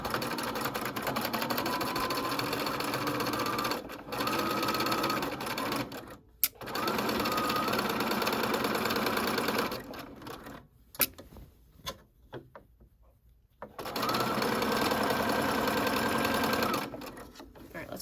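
A sewing machine stitching the casing of a wrap dress, running in long steady whirring bursts with brief pauses and a short stop-and-start gap in the middle, close and clear with no talking.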